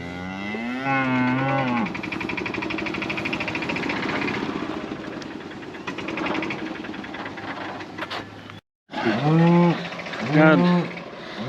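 Cattle mooing at feeding time on a farm, several long, loud, drawn-out moos close by over a steady engine hum from a farm cart or tractor, with a brief gap near the end.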